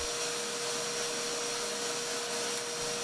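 Bandsaw cutting through MDF, a steady continuous whine and rasp held at even loudness throughout, with a constant tonal hum underneath and no talking.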